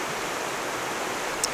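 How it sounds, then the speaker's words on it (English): Fast-moving river water rushing in a steady, broadband wash, close and continuous, with no talk. "the fast moving water underneath it."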